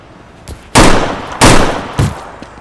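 Several loud, close gunshots ring out in a video game shootout on a street. Three heavy blasts come about half a second apart, each trailing off in a brief rumble, with a quieter shot before them.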